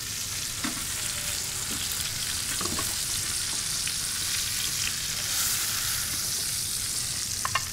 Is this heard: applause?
no